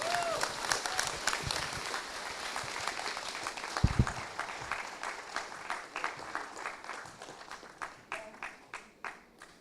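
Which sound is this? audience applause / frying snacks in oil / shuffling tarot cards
audience applause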